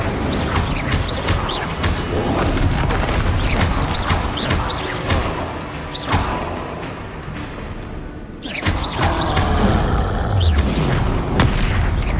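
Dense combat spell effects in Hogwarts Legacy gameplay: loud repeated booming blasts, crackling impacts and fiery whooshes pile up continuously, with a brief dip in intensity before the explosions resume.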